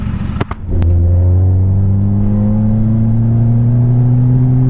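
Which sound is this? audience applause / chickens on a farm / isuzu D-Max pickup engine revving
isuzu D-Max pickup engine revving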